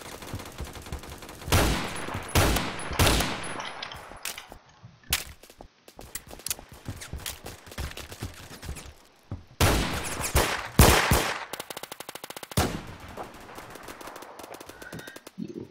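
MP5 submachine gun fire in the Roblox video game, loud rapid automatic bursts in several volleys separated by brief pauses, close and harsh with crackling repeats, no talking.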